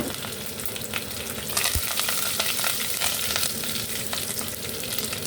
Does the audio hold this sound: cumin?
yes